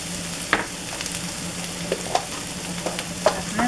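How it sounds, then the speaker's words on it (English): Margarine sizzling in a frying pan, a steady close crackle with scattered pops and light stirring scrapes throughout, no voices. "That's my margarine."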